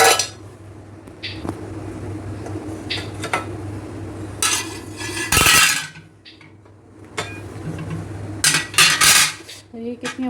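Metal toaster plates are pulled out and set down in a home kitchen, giving a series of loud, close clanks, clinks and scrapes with quieter handling noise between them and a steady low hum underneath.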